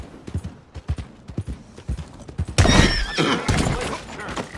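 In Red Dead Redemption 2, a horse's hooves clip-clop in a steady rhythm, then a loud, close whinny rises over crashing game noise.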